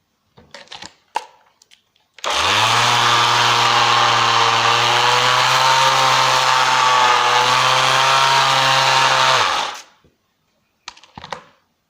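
A bench sander grinds aluminium with a loud, steady motor whine that starts abruptly, holds an even pitch for about seven seconds, then cuts off, with a few faint knocks before and after.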